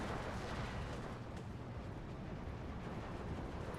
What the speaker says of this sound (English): And some bombs.